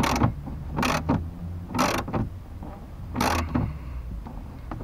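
A socket wrench tightens fasteners on a BMW E46 3 Series tail light, several short rapid ratcheting bursts close up, separated by quiet pauses and soft handling noise.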